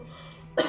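A single short, sharp cough bursts out at the very end after a quiet lead-in, close and fairly loud, with no talk.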